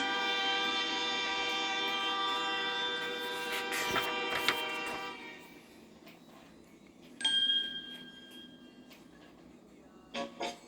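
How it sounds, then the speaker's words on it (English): A loud old locomotive engine rumbles and clanks with a long, steady horn-like whistle, then quiets before a brief second toot and a few clanks near the end. "Listen to that loud old locomotive engine."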